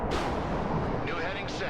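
A missile explosion destroying a radar in an air-base assault mission of a combat flight video game, a heavy booming blast with rumbling fallout, while a voice speaks over it.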